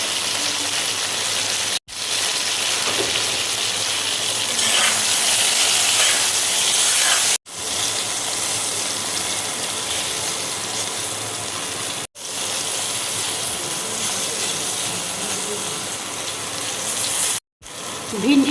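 Okra sizzles steadily in hot oil in a wok, a loud, continuous close hiss broken by a few brief cuts, with no talking over it.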